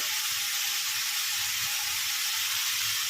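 Butter melts in a hot pan with a few cashew nuts while cooking butter chicken, giving a steady, close, soft sizzling hiss with no talking.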